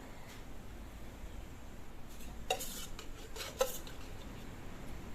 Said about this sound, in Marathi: कढई ठेवली आता गॅसवर गरम करायला।